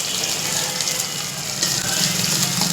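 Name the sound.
onion, garlic, ginger and green chilli frying in a pan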